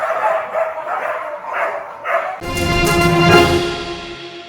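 Dogs bark and yip at an animal shelter in Côte d'Ivoire: a few close, sharp barks, then a louder burst of several dogs barking and whining together.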